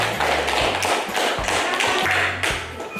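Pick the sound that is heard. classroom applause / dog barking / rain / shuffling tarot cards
classroom applause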